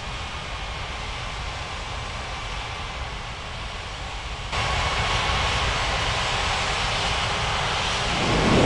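An airliner powers up for takeoff in the air traffic control game Unmatched Air Traffic Control at Ngurah Rai Bali International. A steady, broad engine roar steps up midway and swells further near the end.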